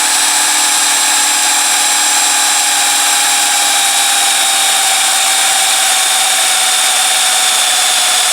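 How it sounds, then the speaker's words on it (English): A powered drill drives a six-inch soil sample tube straight down into the ground, giving a loud, steady, unbroken motor whine that holds one pitch the whole time, with no talking. "we're going to drill right down in the ground"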